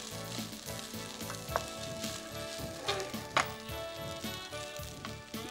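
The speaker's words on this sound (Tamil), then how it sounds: "கொஞ்சம் நல்லா சூடாகிற மாதிரி கலந்து விட்டாக்க இந்த ஸ்பானிஷ் ரைஸ் தயாராகிடுச்சு" Spanish rice stirred in a hot pan, a steady dense sizzle with scattered scrapes and knocks of the utensil against the pan, close and continuous, no voices.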